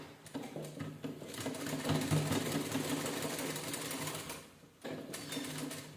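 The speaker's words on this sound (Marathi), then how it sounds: "एकसारखी शिलाई करून घ्यायची" A sewing machine stitches a hook strip onto a back-neck blouse in one long even run, close and steady, stopping briefly near the end and then starting up again.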